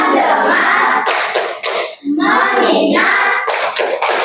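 Rhythmic group clapping from a school class doing a focus clap chant, several sharp bursts of claps in quick succession with children's voices chanting along, close and loud.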